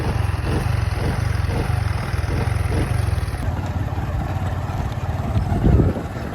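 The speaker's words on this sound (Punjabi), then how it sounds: "ਬੰਨੇ ਦੇ ਉੱਤੇ ਮੋਟਰਸਾਈਕਲ ਚਲਾਉਣਾ ਇੰਤਹਾਈ ਔਖਾ ਹੁੰਦਾ ਹੈ" A motorcycle moves slowly along a narrow raised embankment between farm fields in Punjab, its engine close and chugging steadily at low speed, with one louder surge near the end.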